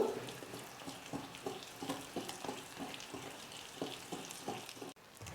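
Steady wet stirring and scraping of thick cake batter in a bowl, rhythmic strokes, close and moderately quiet with no talking.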